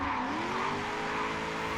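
Turbo V8 diesel Hummer in Forza Horizon 3 drifting, with a continuous loud tire squeal and skid over a steady droning engine, sustained without a break.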